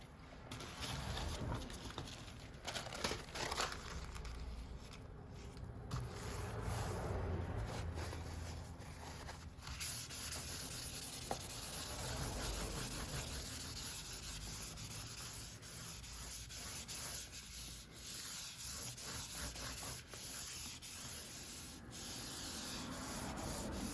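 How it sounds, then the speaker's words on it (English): Paint is pulled through a stencil onto a gel plate print, giving a soft, continuous scraping rub with faint irregular ticks throughout, quiet and close, with no talking. "So we're going to pull the paint through the stencil here."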